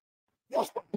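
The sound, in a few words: sneeze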